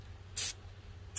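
Two brief hissing bursts of spray paint onto a PowerWash tumbler cup, one short puff and then a second starting at the end, close and fairly quiet over a low background hum.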